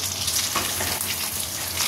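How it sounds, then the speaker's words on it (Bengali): Chicken pieces frying in oil for chili chicken give off a dense, close sizzle with bubbling crackle, steady and loud for a couple of seconds. "এদিকে চিলি চিকেন করবো বলে চিকেনগুলো ভেজে নিচ্ছি।"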